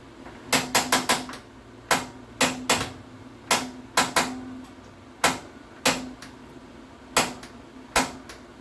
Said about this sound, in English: Using the same striker that lights it up on top will light the oven.